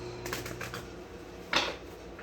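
Tarot cards riffle and slap together in a quick shuffle, a soft flurry early on followed by a sharper burst of cards snapping, close and dry with no talking.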